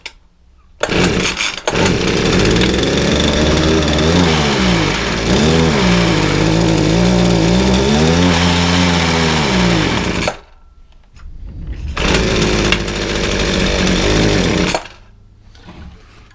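A McCulloch hedge trimmer's small two-stroke engine runs loud and close after a carburetor clean, revving and sagging unevenly, cutting out briefly and then firing up again for a few more seconds.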